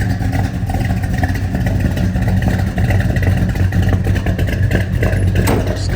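A tuned 1971 Chevrolet Chevelle hot rod runs loud and close, its rough, rumbling engine surging as it revs, with a bit of clatter and no one talking.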